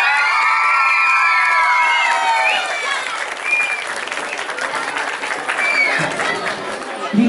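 An audience at a children's song festival in Łąkta Dolna applauds and cheers loudly, with whoops and children's shouts over dense clapping that eases slightly partway through.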